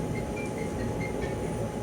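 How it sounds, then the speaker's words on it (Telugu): Hussain Sagar Express passenger train running steadily near Hitech City, Hyderabad, a continuous loud rumble with faint rail squeals, no talk. "ఈ ట్రైన్ పేరు హుస్సేన్ సాగర్ ఎక్స్ప్రెస్"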